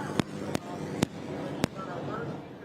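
Four sharp, distant pops from fireworks set off at an asphalt speedway race night, spaced irregularly over steady crowd and background noise.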